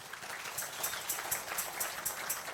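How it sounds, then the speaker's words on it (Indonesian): Steady applause from a church service congregation, a continuous patter of clapping at moderate distance with no voices standing out. "Tepuk tangan buat Tuhan Yesus."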